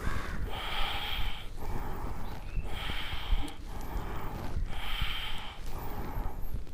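Slow, deep breathing during a neck rotation exercise, with long airy inhales and exhales alternating in an even rhythm, close and moderately loud, no talking.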